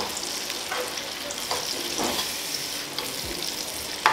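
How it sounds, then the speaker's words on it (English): Stew sizzles and fries in a pan while making minced beef macaroni, a steady close hiss of hot oil with faint stirring scrapes, no talking. "I'm just going to let that fry for a little bit"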